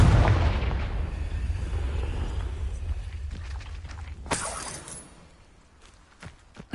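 A Confringo blasting spell goes off in Hogwarts Legacy, opening with a heavy low boom that decays, followed by a sharp crackling burst midway and a few scattered impacts and footsteps as it fades.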